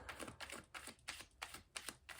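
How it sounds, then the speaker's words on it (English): A deck of playing cards being shuffled: a quick series of soft, crisp papery flicks in a steady rhythm, faint and close, with no talking. "First, I'm just gonna shuffle."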